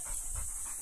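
A dog panting close by in rapid, steady breaths beside water, with no talking.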